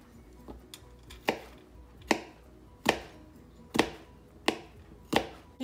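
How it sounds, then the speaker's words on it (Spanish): Onion being chopped into small pieces with a knife on a cutting board for esquites, about seven sharp, evenly spaced chops, close and clear, with no talking. "Y también la cebolla la voy a picar"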